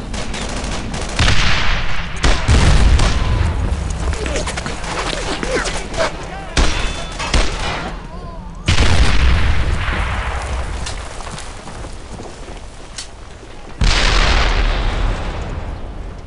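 Gunfire and explosions from the WWII shooter game Brothers in Arms: Earned in Blood, with loud bursts of rifle and machine-gun fire and heavy booms across the battle, while shouted voices occasionally cut through.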